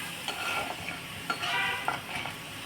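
Spices tempering in hot oil for a kala bhuna meat curry give a steady close sizzle, broken by a few soft stirring scrapes and clinks from a pot.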